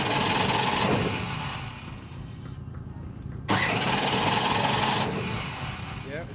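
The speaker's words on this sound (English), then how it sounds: "So look, I'm going to crank it over with no ignition. Hear that?" A trophy truck engine cranks over with ignition off, a steady, loud mechanical churning that runs throughout, with a sharp jump in level partway through and people talking nearby.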